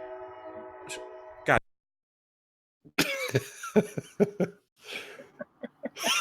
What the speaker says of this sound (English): I am gonna kill these fucking trains.